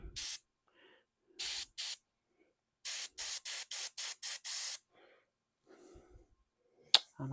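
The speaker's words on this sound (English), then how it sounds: "Airbrushing." Airbrush spraying paint onto miniatures, heard as short hissing bursts, two brief blasts then a rapid run of about six even pulses, fairly close, with quiet handling noises between and no talk.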